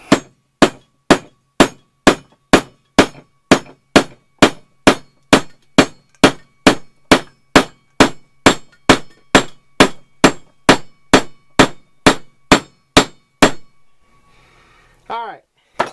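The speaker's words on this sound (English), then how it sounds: "Let me get a heavier hammer, like this ball peen." A ball peen hammer strikes repeatedly and steadily while a hatchet is rehandled. Some thirty loud, ringing metallic blows come about twice a second, then stop, followed by a brief voice.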